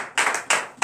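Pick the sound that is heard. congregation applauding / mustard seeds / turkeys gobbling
congregation applauding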